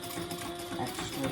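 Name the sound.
sewing machine stitching over laptop bag handles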